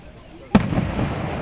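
A single fireworks shell bursts with a sharp boom at a Fourth of July style display in Tri-City, Kentucky, followed by a crackling, rumbling tail, fairly close, with faint voices of the crowd around.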